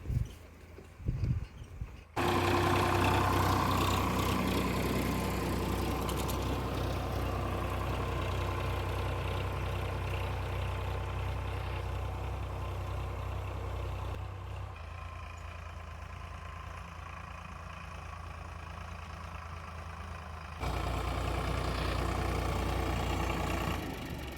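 A tractor engine pulls a cultivator fitted with new points through a field, a steady, fairly loud low rumble that runs on for the whole stretch, easing briefly near the end, with no talk.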